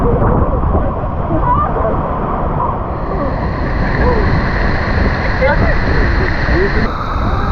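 Waterfall at La Fortuna, Costa Rica, a loud continuous rush of falling water pounding close by, with a voice speaking over the roar.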